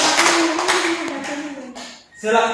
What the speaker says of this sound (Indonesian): kita berikan aplaus kepada kelompok 3